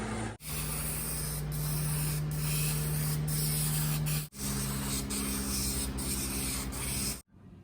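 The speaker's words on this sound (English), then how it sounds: "And the final step is the perfect match, the clear coat." Clear coat sprayed from an aerosol can onto a blacked-out emblem from a 2015-19 Ford F-150: a steady, close hiss in two long bursts with a brief pause between them.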